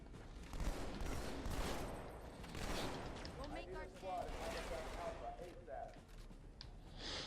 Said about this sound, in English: they basically took like actual gun sounds